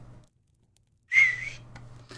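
In the video game Salem, studying a skill sets off a brief whistling chime that rises clearly over faint background ambience and fades within about half a second.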